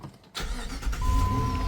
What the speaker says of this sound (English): So let's go turn on the car